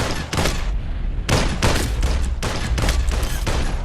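Gunfire in the Population One VR game: a rapid series of loud, close shots, several sharp bursts following one another over a few seconds.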